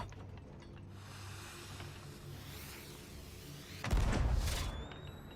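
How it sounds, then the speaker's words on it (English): A snake firework goes off in the pirate video game Sea of Thieves, a loud bursting whoosh late on, after a stretch of low mechanical rumble and ratcheting, followed by fading high whistling trails. "Snake firework. Ooh. That's cool."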